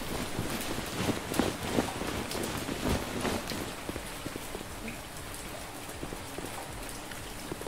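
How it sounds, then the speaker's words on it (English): Steady heavy rain pouring down in a video game, a dense constant hiss with scattered sharper drops, loud and close throughout. "that rain is loud"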